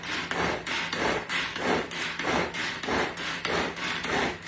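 Shrimp terrine mixture being stirred in a pot, a steady run of about ten rhythmic scraping, rubbing strokes close up with no talking.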